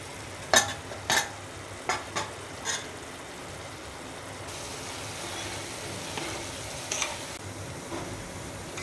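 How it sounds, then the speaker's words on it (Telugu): Ridge gourd curry mixed with salt in a pan: a few sharp scraping stirs near the start, then softer occasional scrapes over a quiet low hiss, no talking. "ఇప్పుడు ఉప్పు వేసి బాగా కలపాలి"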